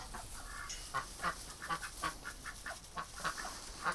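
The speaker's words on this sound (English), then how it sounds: "I'll let these ducks out, I almost forgot about them." A small flock of ducks let out of their pen, giving faint, repeated quacks and honks at an uneven pace, heard from a short distance with no talk.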